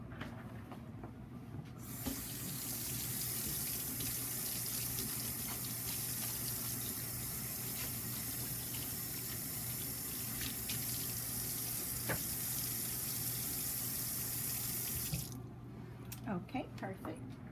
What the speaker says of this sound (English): But first, I want to wash my hands.